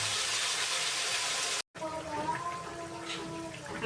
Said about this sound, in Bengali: মশলাটা কষানো হয়ে গেলে এর মধ্যে আমি জল দিয়ে দিব পরিমাণ মতন